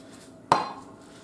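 A single sharp ceramic clink of a coffee mug being taken out rings out against a quiet background, at a camp while water boils.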